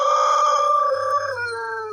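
A Wyandotte hen gives a single drawn-out, tonal vocal call lasting about two seconds, close and clear against a quiet background.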